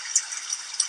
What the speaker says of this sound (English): That's the sound of spring rain.